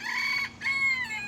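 Backyard chickens with a rooster crowing close by, a bright drawn-out crow broken by a brief pause, with clucking beneath and no voices.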